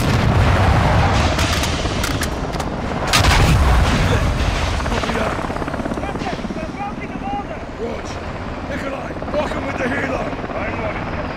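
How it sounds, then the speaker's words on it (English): A helicopter drones over loud bursts of gunfire and explosions in the Call of Duty Modern Warfare 2 video game campaign, dense and continuous, with booming impacts early and a rotor-like rumble persisting as the firing thins out. "I hear the helo,"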